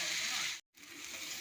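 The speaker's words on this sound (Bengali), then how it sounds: "পরিমাণ মতন আমি জল দেবো" Steady bright sizzle of potato-onion masala frying after water is poured in, loud and close, briefly cutting out for a moment before the hiss resumes at full strength.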